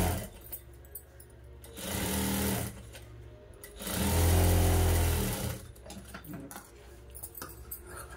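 A sewing machine stitches around the neck of a blouse in several loud, steady bursts, with short quieter pauses between the runs.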